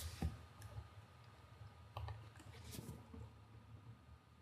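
Quiet computer mouse clicks during a software upgrade: a few sharp, isolated clicks spaced irregularly, faint and close, with no talking.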